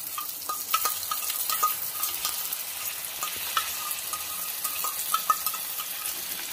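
Onion, tomato and whisked sour yogurt fry and get stirred in a pan for mutton masala curry, a steady soft sizzle broken by repeated scraping and clinking strokes of the spoon, close and with no voices.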